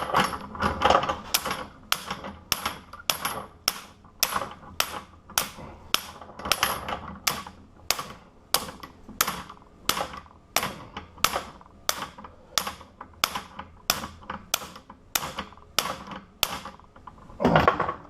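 A bigger hammer pounds an ASSA Stanley padlock with a long series of sharp metallic strikes, close and loud, falling in a fairly steady rhythm of roughly one to two per second.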